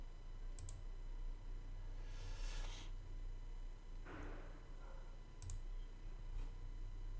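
Computer mouse clicks at a desk, a few sharp, quiet ticks scattered over a faint background hum, alone without talk.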